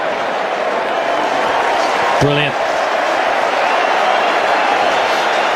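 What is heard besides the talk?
cricket crowd cheering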